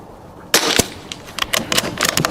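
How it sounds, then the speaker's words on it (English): Rimfire rifle shots fired as a five-round group at a target, each sharp crack standing out alone with irregular gaps between them, the first two loud and close and later ones quicker and somewhat softer. "we're just going to shoot a 5-round group"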